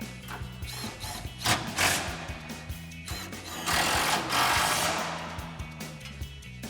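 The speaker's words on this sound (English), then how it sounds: "We'll tighten these down. Our 10mm socket on our impact." An impact wrench with a 10mm socket tightening exhaust bolts on a Ford F-150 dual exhaust install, giving loud rattling hammering bursts with rapid pulsing impacts, close, broken by short pauses between bolts.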